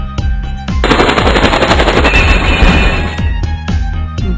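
Gun attack in the video game Epic Battle Fantasy 4: a loud, rapid machine-gun volley rattling for about three seconds, with a few single shots before and after, heard alone.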